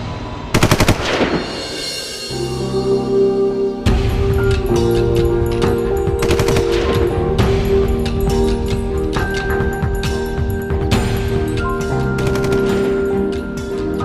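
Machine-gun fire in a battle scene around a bunker: a loud opening burst, then sustained rapid automatic shooting that fills the scene, with overlapping shots and echoing rattle at close range.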